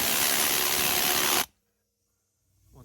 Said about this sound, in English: I found it was easier just to use an air hammer, that attachment there, and drive it straight out